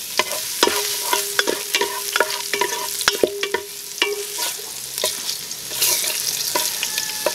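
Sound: chili and garlic sautéing in a pan

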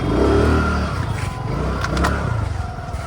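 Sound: vehicle being parked at the market

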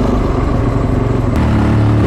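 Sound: Fantic 450 Rally motorcycle engine

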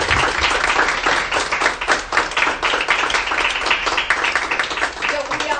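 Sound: applause at book presentation

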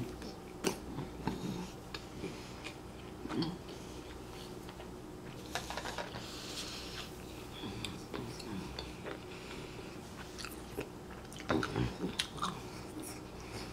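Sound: biting and chewing a milk chocolate Easter bunny

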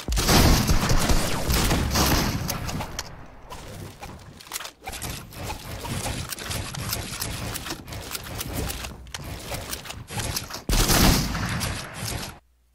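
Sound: shotgun fire in the Fortnite video game

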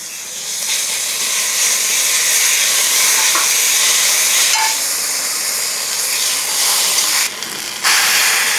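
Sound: green chillies added to hot oil, sizzling

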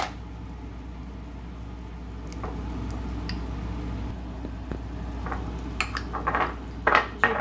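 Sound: mixing and mashing minced meat gratin filling in a pan

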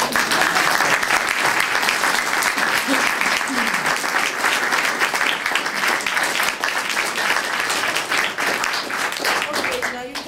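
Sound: audience applause at a book launch

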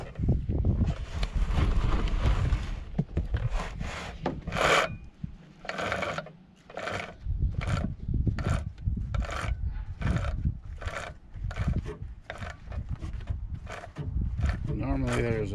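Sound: filing to sharpen a chainsaw chain

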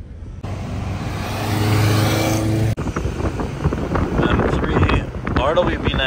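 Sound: Ferrari Speciale Aperta supercar driving on the street

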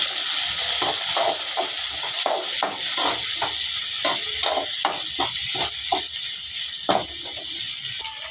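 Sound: cabbage and capsicum sautéing in a pan

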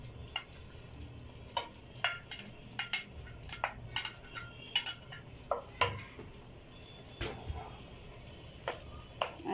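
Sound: stirring boiled pasta in a pot

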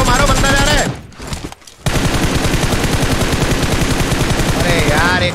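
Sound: gunfire in the video game Free Fire (Aladdin update)

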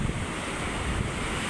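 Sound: sea waves and wind at the seaside

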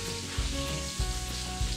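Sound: bacon frying in a pan

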